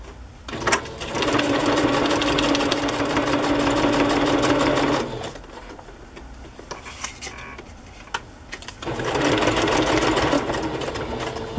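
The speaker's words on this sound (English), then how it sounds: "I will, I might as well just sew it to this sack" A sewing machine stitches paper ephemera onto lace, running loud and steady in two long bursts with a quieter pause of handling noise between them.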